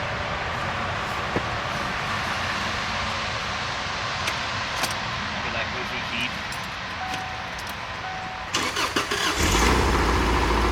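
Under steady background noise and talking, a Subaru engine after an engine swap cranks near the end and catches, roaring into a rough running idle.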